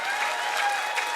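Audience applause at a Javanese-language talk, a steady dense wash of many hands clapping at moderate level throughout, no voices over it.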